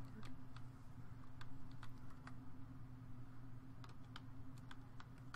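A password is typed on a computer keyboard, with sparse, light key clicks coming in short bursts over a quiet, steady background hum.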